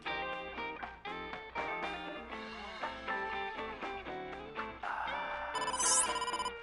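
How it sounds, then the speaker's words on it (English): A telephone rings in the video game AI: The Somnium Files, its bell tone repeating steadily over layered game music and growing brighter toward the end. "Phone call?"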